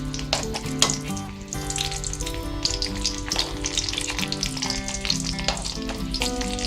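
Second batch of breaded eggplant slices crisping in hot oil in a pan, a steady loud sizzle and crackle with bursts of spatter, heard up close with no talking.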